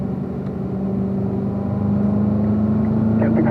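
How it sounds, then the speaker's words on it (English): Car engine on a race track pulling out of a corner, a steady droning rev that rises slightly toward the end with a possible upshift, heard close and fairly loud. "then we'll accelerate out of the corner and upshift"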